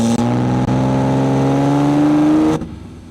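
A car pulls away on a neighborhood street, its engine rising in a steady revving whine that holds loud and close before cutting off abruptly.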